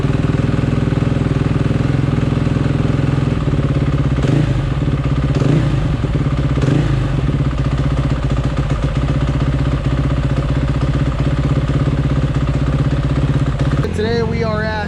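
KTM 450 SMR supermoto engine runs steadily under load at a hot kart track, a loud, close single-cylinder drone with clattery mechanical texture, a few rising throttle swells, and a voice talking over it.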